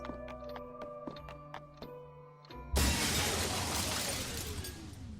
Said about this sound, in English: So I need to get in here and break the glass.